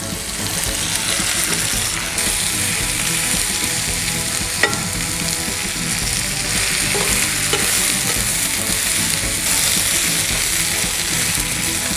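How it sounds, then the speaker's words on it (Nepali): Skin-on mutton frying in a pan while being stirred, a loud constant sizzle with scraping stir strokes and occasional clinks, no speech. "त्यसपछि हाम्रो यो मटन है विथ स्किन मटन हाल्ने।"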